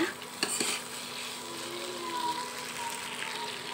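Wheat-flour noodles tossed in a pan, a soft sizzle under clinks and scrapes of a utensil against the metal, fairly quiet and close.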